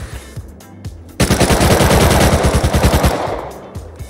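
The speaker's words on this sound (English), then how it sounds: "They're shooting our twig." Rapid automatic gunfire in the video game Rust, a loud sustained burst of closely spaced shots lasting about two seconds after a few quieter scattered pops, then fading.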